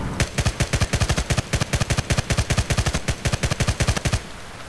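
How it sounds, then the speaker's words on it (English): MG36 light machine gun in Battlefield Play4Free fired from the hip in short taps, a rapid string of loud sharp shots in tight bursts with tiny pauses, ending abruptly after about four seconds. "now we're going to move on to hip fire tap firing"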